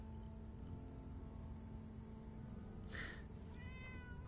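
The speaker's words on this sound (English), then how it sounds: "Hey, look, there's a kitty, Nina." A small gray cat in the Fallout 4 video game lets out a single short meow partway through, over a low, steady game ambience.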